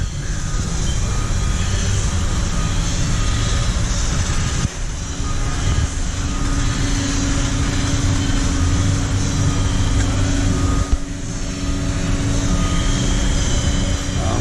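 A wheel balancer spins a dually truck wheel with a continuous loud mechanical whir and hum, steady throughout with a couple of slight dips.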